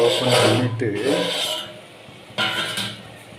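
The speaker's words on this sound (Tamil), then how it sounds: "ஓப்பன் பண்ணிவிட்டு நல்லா கிண்டி விடணும், இல்லாட்டி அடி பிடிச்சி போகும்" Mutton curry masala is stirred in a clay pot, giving close scraping and rubbing strokes against the pot, some louder, some fading, with a brief voice partly over them.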